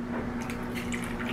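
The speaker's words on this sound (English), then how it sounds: "My coffee, I'm gonna pour my coffee in there." Espresso coffee pours into a glass of salted caramel creamer with a steady, close liquid trickle over a faint constant hum, brief and continuous.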